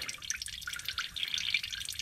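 Coolant drains from the radiator of a 1977 Ford F-250 Ranger XLT Super Cab with a 460 engine, splashing and dripping steadily into a container in a quiet, close, continuous trickle.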